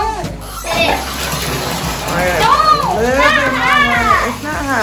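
Water running into a home bathtub while young children play and chatter excitedly, a steady splashing hiss under lively, high-pitched kids' voices and an adult talking nearby.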